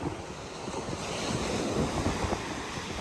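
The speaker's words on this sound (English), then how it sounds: "going for a walk in the morning on the beach in Florida, is definitely nothing to complain about" Surf washes steadily onto the sand at Panama City Beach, Florida, on a morning beach walk, a continuous broad roar of waves mixed with wind buffeting the microphone.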